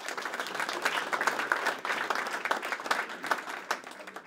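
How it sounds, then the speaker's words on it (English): Sustained applause from a crowd at a training center ribbon cutting, dense clapping holding steady at moderate loudness for several seconds with no talking over it. "Give him a round of applause, please."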